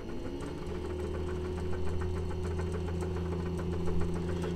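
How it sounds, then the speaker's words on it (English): A three-phase repulsion motor rated at 6,600 rpm hums steadily and evenly at moderate volume, with a faint underlying rattle, running alone without talk. "So you could already kind of hear it going."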